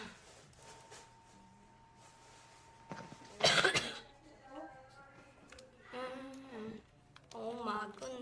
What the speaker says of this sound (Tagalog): May ubo tayo ngayon na.